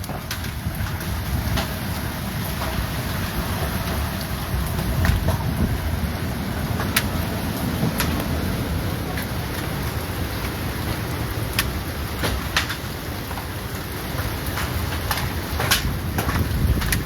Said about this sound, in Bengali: এখনও শিলাবৃষ্টি পড়েই চলেছে